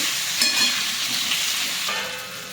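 Stuffed brinjal fries in spiced masala in a pan, sizzling loudly and steadily up close while being stirred, with bright hissing that eases slightly toward the end; no voices.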